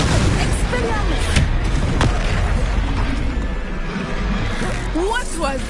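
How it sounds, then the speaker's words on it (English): An Expelliarmus spell cast in Hogwarts Legacy lands as a booming magical blast amid continuous battle effects, with voices talking over it throughout. "Expelliarmus!"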